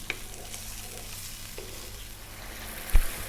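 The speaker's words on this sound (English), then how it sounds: "Let's just cook those tomatoes out a little bit." Tomatoes cooking down in a pan for a spiced tomato sauce, giving a soft steady sizzle with a few light stirring scrapes and a sharp clunk near the end, with no talking.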